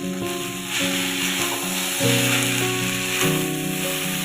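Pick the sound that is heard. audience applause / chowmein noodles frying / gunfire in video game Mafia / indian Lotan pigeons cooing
chowmein noodles frying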